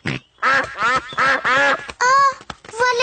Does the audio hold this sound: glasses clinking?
no